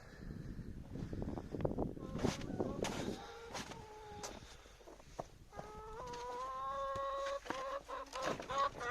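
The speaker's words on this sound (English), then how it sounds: "Hey chickens!" Several chickens cluck nearby in short, irregular bursts in deep snow, with a few louder squawks mixed in and faint background noise.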